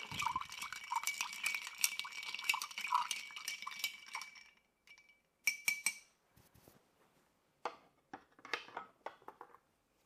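A cocktail, a Spring Fling 75 riff on the French 75, swirls in a glass. Dense, rapid clinking and rattling of ice against glass runs for several seconds, then gives way to a few sparse, separate clinks, with no talking.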